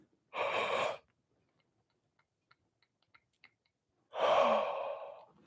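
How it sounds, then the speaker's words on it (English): Two long, breathy yawns during a fascia-focused stretching practice, one near the start and a fuller, longer one near the end, with quiet ticks in between and no talking. "One big yawn here."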